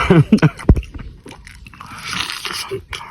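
Crisp fried chicken skin is bitten with a few sharp, close crunches, followed by quieter chewing and faint mouth sounds.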